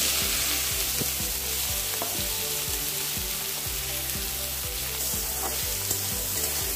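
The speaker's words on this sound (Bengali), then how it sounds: "আর আমি কড়াইতে সর্ষের তেল দিয়ে দিলাম। এবার মাশরুমগুলো একটু ভেজে নেব।" Mushrooms sizzle loudly in hot mustard oil in a wok, a steady crackling hiss with a regular thudding rhythm of stirring beneath it, no voices.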